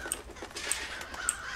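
Crows caw in short bursts, three sharp calls spaced evenly over a soft ambient bed, heard in the stealth game Master of Shadows: A Thief's Tale.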